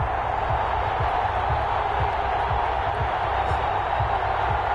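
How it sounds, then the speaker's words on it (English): A stadium crowd at an NFL football game between the Jacksonville Jaguars and the Indianapolis Colts makes a steady, broad roar of murmuring noise that stays even and fills the clip throughout. "This crowd is ready as their guys get set to match up between the Jacksonville Jaguars and the Indianapolis Colts."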